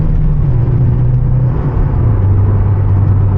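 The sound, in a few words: car engine revving to rev limit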